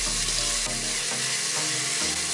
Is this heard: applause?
no